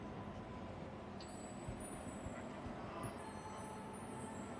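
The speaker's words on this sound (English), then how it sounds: "So we'll head down here and wait for the tram." A tram pulls into a station in the Star Citizen video game, a low, steady vehicular rumble with faint high whines and tones, quiet and continuous under soft background ambience.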